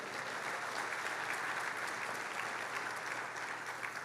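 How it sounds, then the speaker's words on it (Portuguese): A church congregation at a congress applauds in a steady, even wash of clapping heard from a moderate distance, holding constant for a few seconds. "Pode dar um aplauso a ele?"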